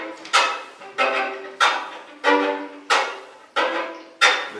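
Bowed string instrument played with the chop technique, adding chords: seven evenly spaced percussive scrapes, each a sharp attack followed by a short ringing chord, close and moderately loud with no talking.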